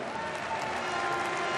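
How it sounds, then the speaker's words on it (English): Steady applause from a large arena crowd welcoming referees at a women's handball final, dense and even clapping filling the space, with a commentator's voice faintly underneath. "Get a warm welcome from the crowd here"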